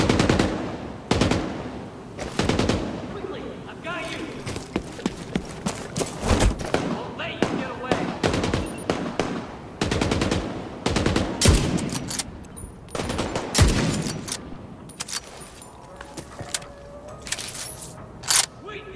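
Dense automatic gunfire and scattered single shots in the video game The Division 2, rattling in bursts throughout while players talk over the firefight.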